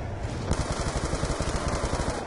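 A rapid, steady burst of gunfire in Black Ops 2 Zombies mode, loud and close, with repeated shots in quick rhythm that continues throughout.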